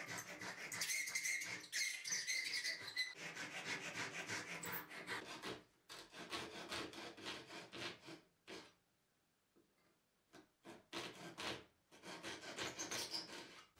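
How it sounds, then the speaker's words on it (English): Wooden lampshade parts being notched by hand, rapid close rasping strokes in bursts separated by short pauses, quiet overall and without speech. "I'm just going to cut a couple of little notches in here"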